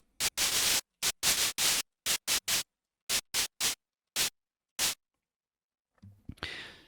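White noise bursts from a Sytrus synth for a psytrance snare, a dozen loud hissing blasts in an uneven rhythm separated by silence, followed by a softer, rougher noisy passage.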